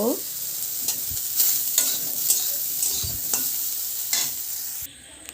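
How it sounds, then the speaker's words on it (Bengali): Soybean chunks frying in hot oil in a wok, a continuous close sizzle broken by several scraping stirs, heard alone with no voices until a brief drop at the end. "লাল লাল করে সয়াবিনগুলো ভাজা হয়ে গেছে"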